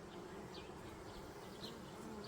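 Soft, steady buzzing of many honeybees close by at a hive, a continuous insect drone with occasional louder passes of individual bees.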